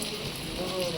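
Rain falls steadily at Stirling Castle in Scotland, a continuous close hiss of drops on hard surfaces with no break across the moment.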